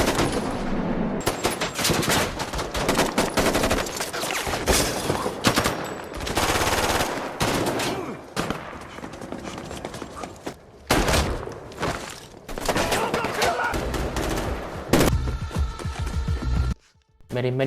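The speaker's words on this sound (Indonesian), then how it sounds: "Merryman yang melihat itu pun kemudian juga keluar dan tembak-menembak pun terjadi" Rapid bursts of movie gunfire from a shootout between police and thieves, dense machine-gun volleys and single shots layered with thumps and music, nearly continuous and loud, with brief drops to silence near the end.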